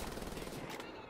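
Enemies fire guns in rapid, dense bursts in the Wolfenstein: The New Order video game, a loud continuous rattle of machine-gun fire over the brief clip, with a voice under it.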